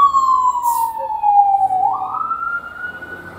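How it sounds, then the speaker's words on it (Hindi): A fire engine siren wails past a bus stop in Canada, one loud, steady tone sliding downward and then stepping up again, with faint traffic noise underneath. "यहाँ पे फायर ब्रिगेड निकल रही है"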